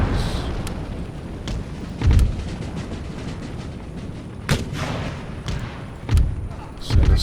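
Artillery salvo in Empire: Total War, a winter battle against Persians: several heavy booming thuds land a few seconds apart over a steady rumbling battlefield din.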